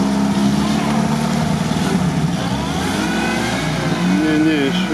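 UAZ off-road vehicle fitted with BTR armored-carrier wheels, its engine droning and revving steadily up close throughout, with a changing whine near the end as it drives.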